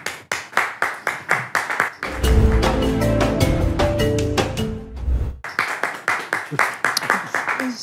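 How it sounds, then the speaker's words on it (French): Studio audience on a French talk-show set applauding as a guest walks in: a run of rhythmic, evenly spaced group claps, then a loud burst of music and crowd noise for a few seconds, then the rhythmic clapping resumes. "avec des petits applaudissements quand même pour elle"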